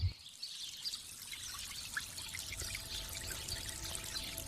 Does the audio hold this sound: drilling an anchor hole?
no